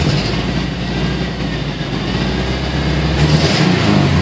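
A 2005 Subaru Impreza WRX engine with a rough idle revs loud and close, holding a steady rasping drone with a sharp backfire crackle near the end.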